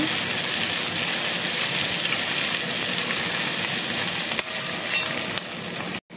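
Ginger sizzles in hot oil in a pan for an eggplant and tomato curry, a steady dense crackle of frying with occasional stirring clatter, close and continuous with a brief break near the end.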